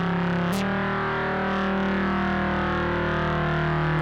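Sugar Bytes Unique iPad synth playing a rich, wide, distorted sustained tone with a chorus-like swirl, entering with a sharp attack and then holding steady and loud, with no talking.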